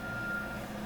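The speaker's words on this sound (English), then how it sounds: "The construction still goes on here if you hear the beeping outside." A construction vehicle's steady electronic reversing beep rings out at a distance, a single high tone over low outdoor rumble.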